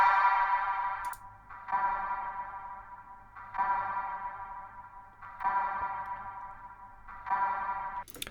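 A techno synth pluck loop processed with chorus, reverb and echo plays alone, repeating in four even bursts about every two seconds, each bright phrase trailing into an echoing tail.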